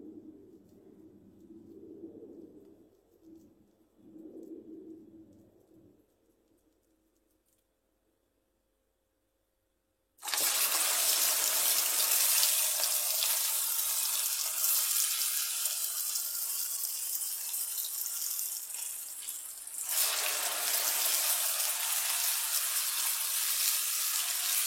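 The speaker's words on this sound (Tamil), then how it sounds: "எண்ணெய் நல்லா ஹீட் ஆகிடுச்சு. இப்போ வடை போட்டுடலாம்." Meal maker and white peas vada batter drops into hot oil, setting off a loud, steady, close sizzling hiss that runs for about ten seconds after a quiet stretch with faint background sounds.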